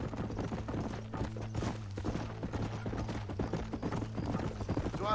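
Horse hooves clip-clop at a steady riding pace in the video game Red Dead Redemption on Xbox 360, a quiet rhythmic patter with faint mechanical background.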